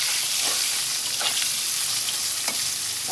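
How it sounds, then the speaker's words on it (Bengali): Eggplant frying in hot oil, a steady close sizzle with a few faint stirring scrapes. "বেগুনগুলো ভাজে নিই।"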